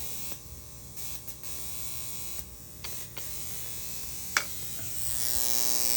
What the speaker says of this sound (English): you're going to hear the spark gap go fast